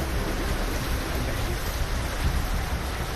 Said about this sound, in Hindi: सुबह सुबह शुरू हुई बरसात रुक रुक कर पूरे दिन जारी रही।